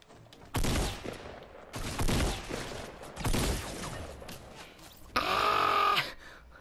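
Bursts of gunfire in a Fortnite match: three loud, dense volleys of rapid shots, each lasting about a second with short gaps between, followed by a sharper, ringing burst near the end.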